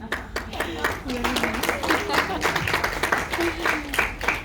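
Audience applause at a live comedy show, a burst of rapid clapping rising and falling over a few seconds, with a voice speaking over it.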